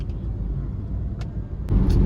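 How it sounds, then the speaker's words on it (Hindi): Road traffic on the way to college near Gurgaon makes a continuous low rumble of car engines. Short hisses cut through, and a vehicle swells louder near the end. "और ट्रैफिक देख लो, इतना ट्रैफिक है ना भाई।"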